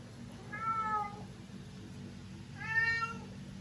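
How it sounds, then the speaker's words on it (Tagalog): A Siamese cat gives two clear, drawn-out meows a couple of seconds apart, fairly close against a quiet room with a low steady hum. "Limang anak ng pusa namin. Siamese cat."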